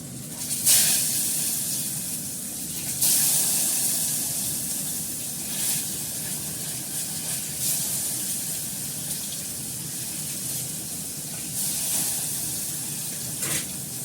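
Water is poured into a hot pan of curry with paneer and aubergine, giving a steady, close hiss and sizzle that runs for the whole stretch with a few brighter bursts and no talk.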